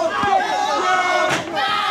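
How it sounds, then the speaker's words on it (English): A wrestling crowd at an IWA over-the-top battle royal reacts with loud disapproval, a swelling wash of many voices with jeers and shouts that stays dense throughout, punctuated by a few sharp outbursts. "Crowd doesn't like that."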